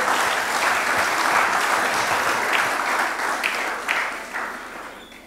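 An audience at a PALOP and Timor-Leste ministerial meeting with the EU bursts into sustained applause, dense and fairly close, holding steady before thinning out with a few final claps.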